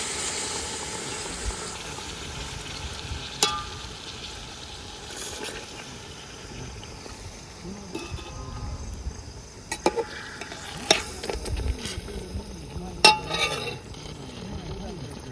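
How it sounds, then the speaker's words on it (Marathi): Fish cooking in spice-paste water in a pan makes a soft bubbling simmer under someone talking, broken by occasional clinks of a utensil against the pan. "आता माशामध्ये आपलं पाणी टाकलेलं आहे म्हणजे वाटणाचं"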